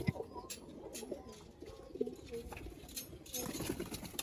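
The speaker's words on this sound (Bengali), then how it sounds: "এই হলো নর কবুতরগুলা" Pigeons coo softly in a loft, several low throaty calls spread through the moment, faint and a little distant, with someone talking quietly nearby.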